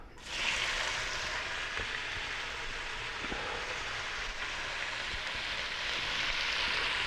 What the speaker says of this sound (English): We're browning now.